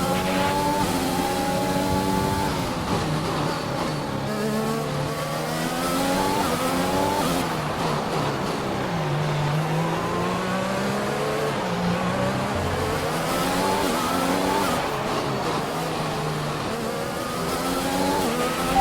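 Formula 1 race cars in the game F1 2021, with loud, sustained engine whine climbing and falling in pitch through gear shifts, several cars audible together at racing speed.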